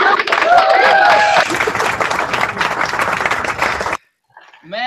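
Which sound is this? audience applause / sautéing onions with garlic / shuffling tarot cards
audience applause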